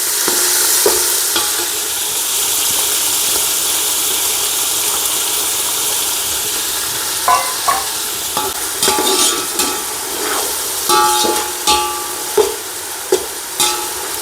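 Finely chopped onions frying in oil in a pan, a continuous hiss at first, then a series of sharp scraping and clinking stir strokes in an uneven rhythm over the sizzle.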